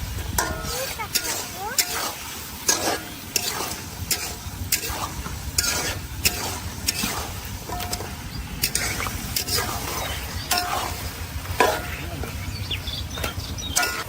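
Meat is stirred and sautéed down in a pan. Rhythmic scraping strokes repeat roughly every second over a continuous close sizzle.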